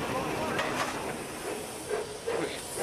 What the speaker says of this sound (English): As the train winds slowly through Dover's sharp curves